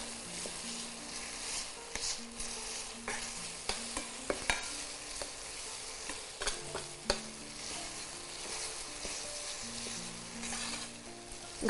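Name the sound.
mashing and stirring tomatoes frying in a pan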